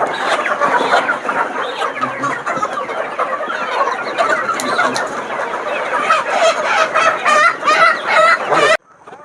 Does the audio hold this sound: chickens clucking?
yes